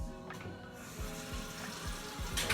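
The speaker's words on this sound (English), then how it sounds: "So I'm gonna rinse my mushrooms and" Mushrooms and onions are rinsed under a running kitchen tap, a faint steady stream of water with soft splashing and light knocks throughout.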